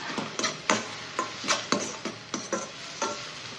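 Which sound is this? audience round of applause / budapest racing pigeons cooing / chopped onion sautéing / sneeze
chopped onion sautéing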